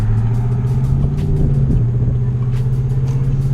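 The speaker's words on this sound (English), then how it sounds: "I love how this truck sounds." A pickup truck at a car dealership idles with a steady, deep engine rumble and a constant low drone, loud and close, with no one talking over it.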